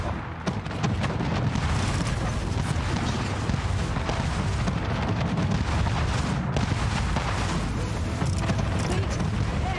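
Naval ship cannons firing in the video game Anno 1800, a dense, sustained barrage of booming shots and rumbling blasts that runs without pause and stays loud throughout, with no voices standing out.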